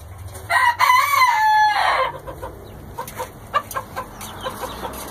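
A rooster crows loudly and close, one long drawn-out call, followed by scattered clucks and soft farmyard noises.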